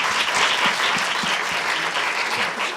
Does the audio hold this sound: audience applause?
yes